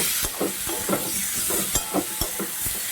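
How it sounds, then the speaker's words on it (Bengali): Potato pieces and chicken fry in spice masala in a pan with a dense, continuous sizzle up close. Irregular spoon scrapes and stirring clacks repeat throughout. "কয়েক গোটা আলু আর চিকেন দিয়ে দিলাম এবার ভালো করে ভেজে নেব"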